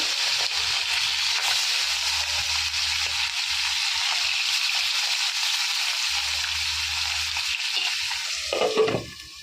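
Hilsa fish pieces frying in hot oil in a pan, a steady bright sizzle running close and continuous throughout, with a short clatter of handling near the end.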